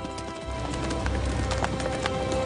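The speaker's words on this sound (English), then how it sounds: "the horse would start out at low speeds using a walk" A horse moves at a walking pace, its hooves clip-clopping in a close, regular rhythm of sharp knocks over a steady background din, with a faint bird call.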